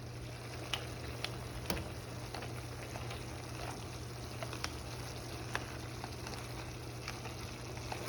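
Lobster boiling in a pot of water, a steady low bubbling hum with faint scattered pops and ticks throughout, no talk.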